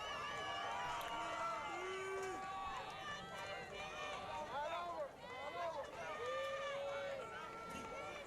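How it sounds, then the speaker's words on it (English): Crowd of Hale fans cheering in the stands at a high school football game against Glenpool, a steady roar of voices with whoops, under continuous play-by-play commentary. "The Hale faithful cheering on the defense here."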